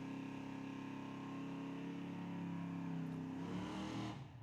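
A Pontiac and an Oldsmobile drag race at Tucson Dragway, engines roaring in a loud sustained rising drone that shifts pitch and then cuts off abruptly at the end.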